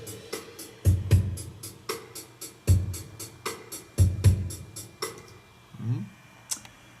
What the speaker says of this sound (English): this pattern we have here is a typical 6/8 pattern on drums when playing